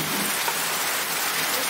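Steady rain pours outdoors on a rainy day in the countryside, a dense, even patter of drops on surfaces that fills the whole stretch with no pauses and no voices.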